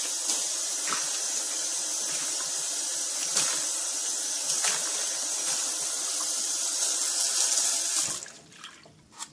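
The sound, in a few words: liquid poured down a sink drain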